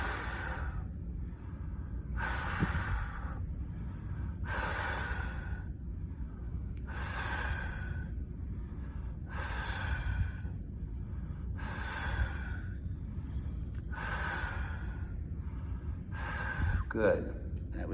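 Someone doing a back squeeze exercise in a gym exhales forcefully about eight times at a steady pace of roughly two seconds each. The breaths are close and breathy over a low background hum.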